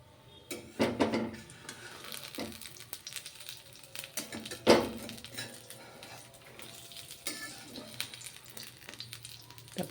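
Vegetable handvo batter, poured over popped mustard seeds and cumin, sizzling under a lid in a pan on medium gas: a steady soft frying hiss with a few clinks and knocks of utensils and pan.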